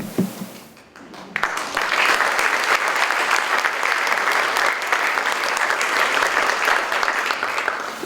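Audience at a poetry reading breaks into loud, sustained applause after a brief quiet moment, many hands clapping in a dense, even roar that holds to the end.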